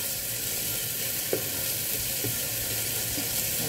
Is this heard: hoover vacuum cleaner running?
no